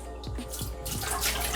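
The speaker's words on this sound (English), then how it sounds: "So now what we're gonna do is empty out the water." Water poured off a bowl of dough into a sink while making seitan, a steady splashy trickle with a few distinct drips near the start, close and moderately quiet.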